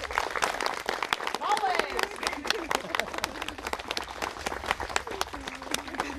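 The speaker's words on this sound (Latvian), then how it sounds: "Ovācijas!" Audience applause and ovation at a Latvian gathering, steady clapping from many hands for several seconds, with voices and cheers mixed in.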